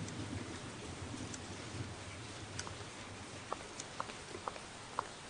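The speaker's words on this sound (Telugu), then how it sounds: "వాన పడుతుంది." Steady rain falls outdoors, a soft continuous patter with scattered sharper drop ticks, heard at a fairly low level with no voices.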